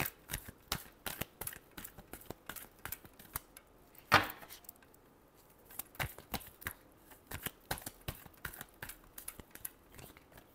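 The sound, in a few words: shuffling tarot cards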